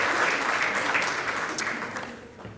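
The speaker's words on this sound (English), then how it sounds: "let's give a round of applause to all the recipients in our postdoctoral awards" A short burst of audience applause at a university research awards ceremony honoring postdoctoral recipients, steady clapping that slowly fades over a couple of seconds.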